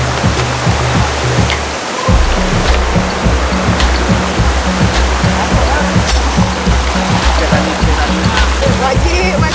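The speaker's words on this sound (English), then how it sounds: "I'm looking at a waterfall right now and it's so amazing, so beautiful from here" Jelawang waterfall and river at Gunung Stong, Malaysia, a loud, constant roar of rushing water close by, with a rhythmic low thumping underneath and no talk.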